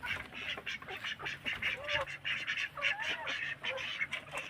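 A flock of ducks quacks continuously up close while feeding, overlapping nasal calls in an uneven, chattering rhythm.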